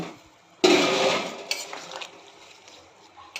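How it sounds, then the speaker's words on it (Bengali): Muitha dumplings are tipped into a pot of boiling curry with a sudden loud splash and sizzle, followed by a few softer clinks and bubbling. "এবার মুইঠাগুলো সব দিয়ে দেবো"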